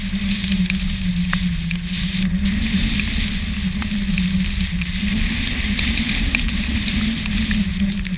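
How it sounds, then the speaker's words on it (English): Steady wind roar and rain on South Georgia Island at Salisbury Plain, a wet, muddy shore crowded with king penguins, a constant loud buffeting rush with a low rumble underneath and scattered patter throughout. "It's windy, it's rainy, and it's muddy"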